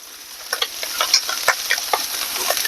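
Pieces of meat frying in a big frying pan on a stove at medium-low heat for a meat feast dish, a steady close sizzle with scattered pops and light stirring clicks, no voices.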